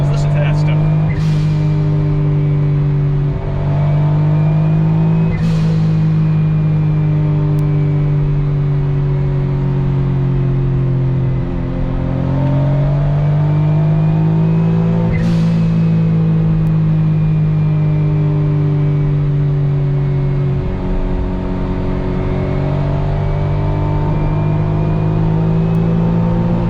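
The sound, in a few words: Autozam AZ-1 turbo noises with straight exhaust under boost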